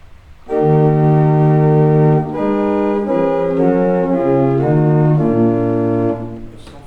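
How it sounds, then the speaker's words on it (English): Pipe organ diapason stop sustaining a slow sequence of held chords and notes, full and steady, loud and close, with no talk over it. "that would be the diapason stop,"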